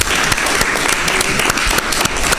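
Loud, dense clapping from a studio audience on a live Malian midday TV talk show, a steady close roar of hands applauding a colleague, with no talk over it.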